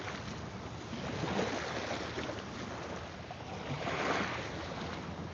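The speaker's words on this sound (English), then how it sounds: "Hopefully the wind's not too bad, but I got the wind to my back right now." Steady wind roars across a Mille Lacs Lake shoreline, a loud, continuous broadband rush with gusts swelling around the middle and again near the end, no voices.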